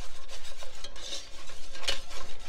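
A whisk scrapes and stirs a thick vegan cheese mixture in a pan on a stove that has been switched off. The strokes come as rhythmic, close scraping swishes with light metallic clinks, and no voices are heard.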